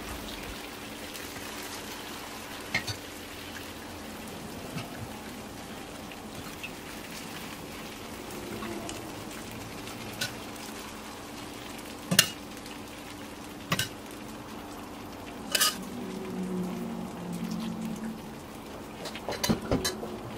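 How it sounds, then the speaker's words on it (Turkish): Warm syrup drizzled over a hot, freshly baked syrup-soaked dessert, giving a steady soft hissing sizzle with a few sharp clicks and ticks scattered through it, close by and without any talk. "Ilık olan şerbeti üzerine gezdirerek döküyorum."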